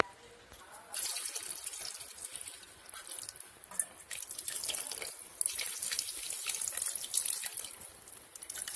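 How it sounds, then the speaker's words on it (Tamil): Water, about four tumblers of it, is poured into a pot of vegetarian biryani. The steady splashing stream runs continuously and close by, with slight dripping and gurgling. "மறுபடியும் நல்லா மிக்ஸ் பண்ணுங்க தண்ணியை ஊற்றிட்டு."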